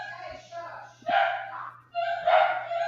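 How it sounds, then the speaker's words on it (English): Dogs barking in bursts indoors during a livestream, a couple of sharp barks and yips rising over a steady hum while someone talks nearby. "Oh, my dogs are acting up."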